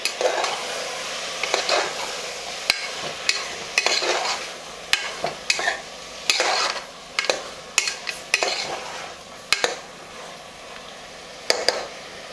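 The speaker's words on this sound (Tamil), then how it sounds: "சாம்பார் வெங்காயத்தை போட்டுடலாம் இதை போட்டு இதை நல்லா வதக்கலாம்" Sambar onions (shallots) are sautéed in a pan for mutton curry, with a ladle scraping and clinking against the metal in irregular bursts over a soft background sizzle, close and fairly loud, no talking.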